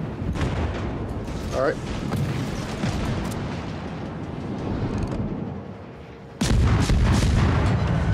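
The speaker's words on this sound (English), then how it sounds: "Torpedo, direct hit." Heavy explosive booms from torpedo hits on a ship in World of Warships, a continuous rumbling battle din with a sharp louder burst late on, under brief talk.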